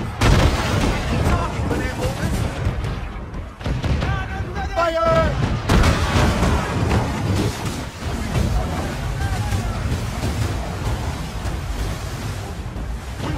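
Cannon volleys boom steadily through a naval battle in Assassin's Creed Rogue, with heavy low rumbles, crashing water and wind, while voices shout orders over the din.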